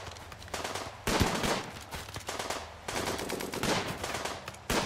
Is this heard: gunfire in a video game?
yes